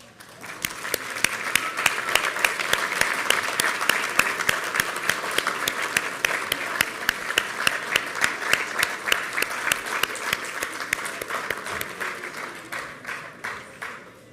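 An audience at a technology center awards ceremony gives graduating students sustained applause, with many hands clapping in a dense, steady stream and sharp individual claps standing out, continuing for several seconds before tapering off.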